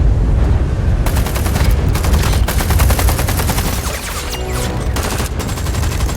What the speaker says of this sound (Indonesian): Ilsa bersiap dengan senjatanya untuk membantu Ethan dan baku tembak pun tak